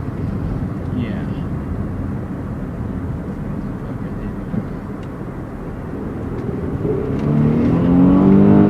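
A Ford Flex accelerates, its engine a steady, loud drone that swells and climbs in pitch over the last couple of seconds.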